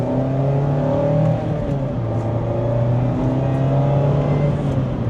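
A Mazda Miata pulls hard in second gear, its engine giving a steady, loud drone heard from inside the cabin with no one talking.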